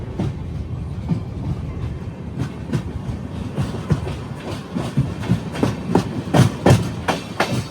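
A passenger express train hauled by an electric locomotive runs along the track, with a steady rumble and rhythmic clickety-clack of wheels over rail joints heard from on board, loud and continuous, no talk.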